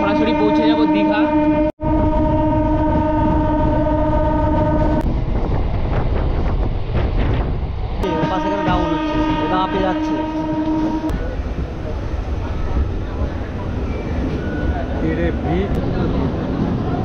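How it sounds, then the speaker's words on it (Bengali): A local train runs from Mecheda toward Digha. A long horn blast opens, then breaks off and sounds again, over the continuous rumble and clatter of the moving carriages and gusty wind buffeting the microphone. "ট্রেন নাম্বার চেঞ্জ করে ছেড়ে দিয়েছে এবার দীঘার উদ্দেশ্যে।"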